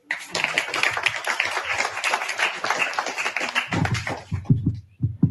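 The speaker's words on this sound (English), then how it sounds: "On l'applaudit." A crowd claps in dense, lively applause for a few seconds, then it thins to scattered individual claps near the end.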